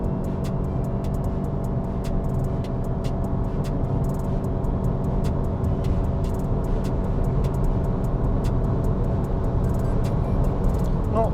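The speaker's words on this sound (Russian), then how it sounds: "сейчас я выйду на скорость 100 и потом нажму газ в пол" Toyota RAV4 Hybrid all-wheel-drive crossover accelerating at full throttle from 100 km/h, a steady loud engine drone with road and wind roar inside the cabin, no talk.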